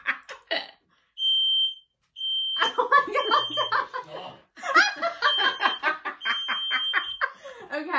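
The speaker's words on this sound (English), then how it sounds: "a smoke alarm just gone off." Short high-pitched smoke alarm beeps sound in bursts while people laugh and talk over them.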